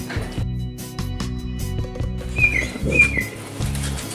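A green leafbird (cucak ijo) chirps in a hanging breeding cage, giving a few short, bright, whistled calls close by over a steady, tonal background.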